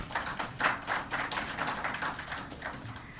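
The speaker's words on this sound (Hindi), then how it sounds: "जोरदार तालियां हो जाए।" An audience at a team-building event applauds, a dense patter of many hands clapping fairly quietly at a distance, with no voices over it.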